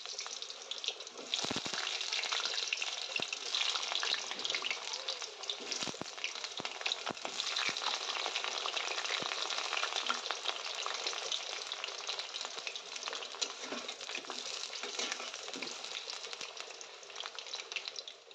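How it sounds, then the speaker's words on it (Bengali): Cut potatoes frying in hot mustard oil in a wok, a dense continuous sizzle and crackle lasting throughout with occasional stirring clicks. "সর্ষের তেলটাকে ভালো করে গরম করে নিয়ে ওর মধ্যে কেটে রাখা আলুগুলোকে ভালো করে ভেজে নেব।"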